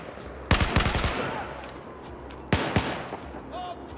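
Automatic weapons fire in Battlefield 4 combat, a rapid close burst of several loud shots followed after a pause by a second shorter burst, with a faint background din between them.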